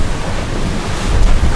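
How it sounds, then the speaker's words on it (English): Big ocean waves surge around a sailing boat at sea, a loud roaring wash of water with heavy wind buffeting the microphone, swelling toward the end. "These are really big waves."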